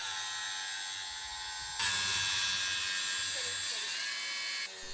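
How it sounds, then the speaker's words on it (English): A circular saw trims 3mm, one blade width, off a wooden stud while converting a back door into a wall; the whining cut starts abruptly partway through, holds loud and steady for about three seconds, then stops. "I shave off one blade width with the circular saw."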